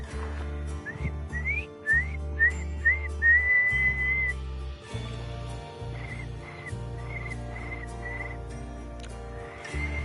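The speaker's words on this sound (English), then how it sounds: "Why can I not whistle right now?" Person attempting to whistle, producing a run of short, breathy rising whistled notes followed by a longer held tone, with gentle music playing underneath throughout.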